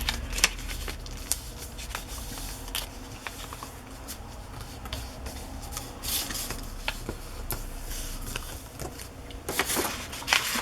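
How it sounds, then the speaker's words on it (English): Paper pages for a handmade Christmas domestic arts journal rustle and crinkle as a page is folded over, with repeated crisp crackles and soft shuffling close by, steady through the whole stretch without speech. "I'm gonna fold this over like I did with that other page"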